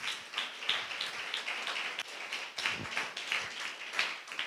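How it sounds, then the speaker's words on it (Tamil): A church congregation claps along during a Tamil worship service, producing a quiet, steady patter of many hands with sharper individual claps, distant and roomy, with faint talk underneath. "கைத்தட்டி ஆண்டவருக்கு நன்றி சொல்லுங்க உற்சாகமா"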